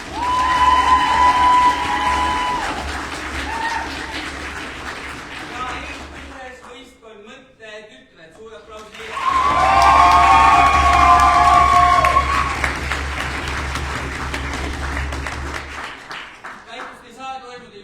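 A competition crowd at the final of a debate championship claps and cheers for team Nexus, loud and sustained, dipping briefly before surging again in a second burst of applause and shouts.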